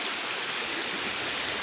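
Steady flowing stream water rushing continuously with broad, even hiss and no breaks, close and moderately loud, with no voices over it.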